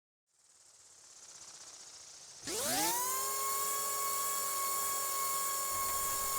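A simulated T-Rex 500 RC helicopter in the RealFlight simulator spools up, its hiss giving way to a rising electric whine that settles into a loud, steady, tonal drone.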